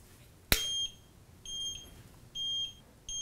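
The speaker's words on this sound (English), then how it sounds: "you can hear it beeping" An ECOROAD EC6 electric scooter turn signal beeps at an even pace, producing several clear, high electronic tones about a second apart after a sharp click, close up in a quiet room.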